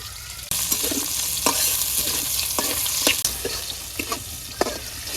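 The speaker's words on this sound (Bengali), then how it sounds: "পেঁয়াজ কুচি দিয়ে দিলাম" Chopped onion hits hot oil with prawns in a wok, starting a loud sudden sizzle that carries on steadily, broken by repeated scraping strokes of stirring up close.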